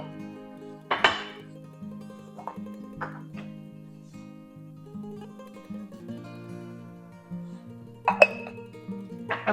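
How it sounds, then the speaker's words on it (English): Cooked, tender beans in a pot being seasoned with salt and pepper, heard as a few sharp metallic clinks scattered over a low steady hum, with a bright double clink near the end. "Now I'm going to add in my salt and my pepper."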